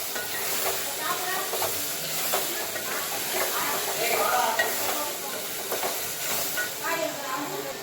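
Ginger garlic paste sautéing with tomatoes in a pan for a potato chicken curry, giving a steady close sizzle and hiss with occasional stirring scrapes throughout.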